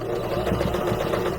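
Sewing machine stitching a mini gift bag, a continuous close mechanical whirr with a dense rapid rhythm, running alone without talk.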